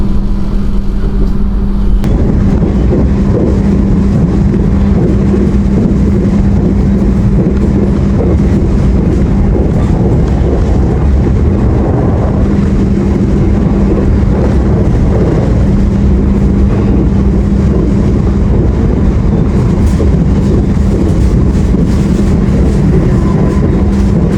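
Steady rumble inside the Sawunggalih Utama economy train in Indonesia, a continuous loud rolling drone with a low hum and faint rail clatter running unbroken throughout.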